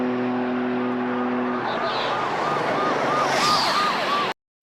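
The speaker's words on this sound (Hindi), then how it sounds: "यह इंजन रोर पुलिस सायरन्स की आवाज में बदल जाता है" An RB26-engined Supra's engine roars steadily and loudly, then wailing police sirens rise and sweep over it until the sound cuts off.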